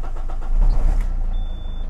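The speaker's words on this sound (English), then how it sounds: "Start up this beast." A Citroen Picasso engine cranks and fires up in one short, close start that settles into a rough idle.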